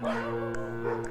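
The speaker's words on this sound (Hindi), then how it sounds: "तभी उसे बाहर से कुत्तों के भौंकने की तेज आवाज सुनाई दी।" Dogs bark loudly outside in a brief horror-story sound effect, a quick burst of yelping barks over a steady low hum.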